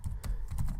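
Quick keystrokes on a computer keyboard, a few close clicks in a brisk burst with slight pauses between them.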